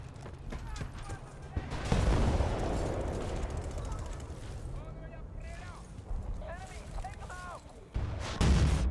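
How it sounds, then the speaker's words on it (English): Gunfire in the Battlefield video game, including pistol shots, sounds as loud bursts and booms amid battle noise. A player talks over the firing throughout. "Let's see if I can make use of this pistol."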